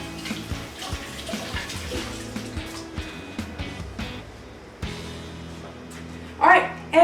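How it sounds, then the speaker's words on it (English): Tap water runs steadily into a sink while hands are rinsed under it, a continuous close splashing wash with a brief louder burst near the end and a dog faintly audible. "I'm just going to rinse my hands."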